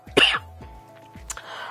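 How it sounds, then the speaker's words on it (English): A single harsh cough up close, then quiet room noise with faint low thumps and a brief rasp. "Excuse my coughing."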